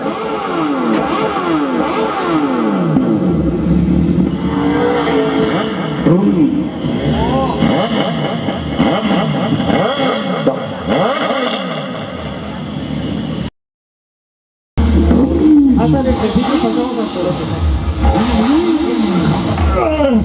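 Motorcycle engine starting and revving during an outdoor road safety street play, loud rising and falling revs close by with people talking over it, briefly cut off before resuming.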